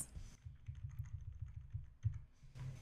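Keys on a computer keyboard are typed at a quick, steady pace while working in Visual Studio Code. The clicks are soft, close and fairly quiet, with a short pause partway through and no voices.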